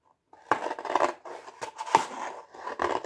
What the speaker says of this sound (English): and then get the scissors